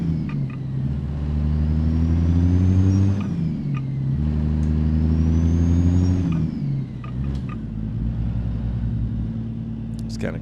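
An American Truck Simulator truck fitted with Zeemods' Cat C15-6NZ engine sound pack cruises through town with the windows up. A deep, bassy engine drone rises and falls in pitch through gear changes, with light clicks over the steady rumble.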